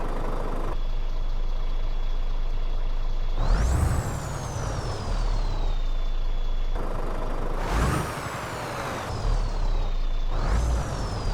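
An Iveco truck idles as heard from inside the cab, a steady low engine rumble punctuated by periodic hissing air-brake releases and a faint high tone, with no talking.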